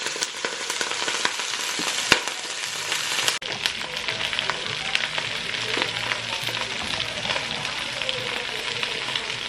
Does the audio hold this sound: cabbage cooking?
yes